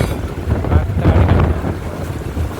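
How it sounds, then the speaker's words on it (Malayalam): Wind blowing outdoors through flowering mango trees, a steady broadband rush with gusty swells peaking midway and easing slightly toward the end, close and fairly loud with no talk. "നല്ല കാറ്റവിടെ."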